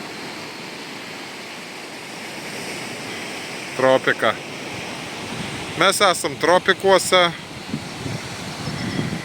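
Ocean waves washing against dark lava rocks on the shore of Sao Miguel in the Azores, a steady broad surf roar under wind, with someone talking briefly over it twice.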